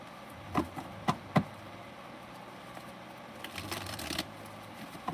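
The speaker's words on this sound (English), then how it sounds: "Give these cards a good shuffle." Tarot cards being shuffled by hand, heard as three quick, crisp riffling bursts early on and then a longer, softer run of rustling card shuffling toward the end, close and fairly quiet, with no talking.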